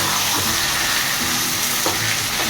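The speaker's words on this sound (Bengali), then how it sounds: "ভালো করে এটাকে ভাজতে হবে" Taro and chickpeas frying in a pan: a loud, dense, unbroken sizzle close up, with occasional soft stirring scrapes.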